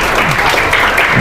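Students at a school motivational program clap loudly for their parents, a close, dense burst of many hands with a faint voice underneath.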